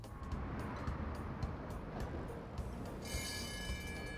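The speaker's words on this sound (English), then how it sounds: "The tram is moving along the road." A cartoon tram rolls along a road with a low, steady rumble of wheels and motor, fairly quiet, and a thin high whine rises near the end.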